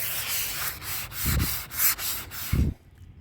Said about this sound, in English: Sanding, I mean.